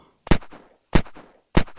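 Three sharp gunshots ring out about two-thirds of a second apart, loud and punchy with short decaying tails, fired at a boss zombie in the video game Unturned.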